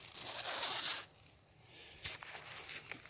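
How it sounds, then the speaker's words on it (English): A zipper on a mesh camping hammock is pulled in one long close rasping stroke, followed by a quieter pause and a few shorter zipping tugs and rustles. "There's a zipper on the back side where if you're inside the hammock, it's easy to get in and out of, and it zips up and down."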